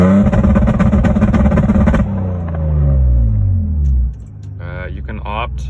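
A car engine with MS4X launch control revs hard and holds against the limiter in a buzzy burst, then winds down in a falling sweep. A voice speaks over the final moments.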